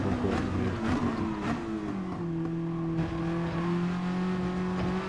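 Racing car engine held at full throttle through a fast corner in Gran Turismo Sport, a steady loud high-pitched drone with a slowly shifting pitch and no voices.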